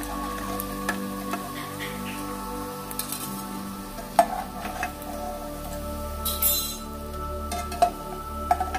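Vermicelli snack frying in hot oil, a steady low sizzle with scattered clinks and ticks of a utensil stirring and lifting it out of the pan.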